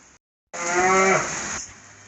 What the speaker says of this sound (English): That beller and you hear in the background is that newest calf